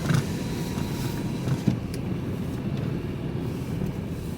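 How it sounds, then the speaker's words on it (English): A car rolls into a scrap yard, its engine a low, steady rumble at moderate distance with a small knock partway through, and no talking over it. "who's that coming in the car?"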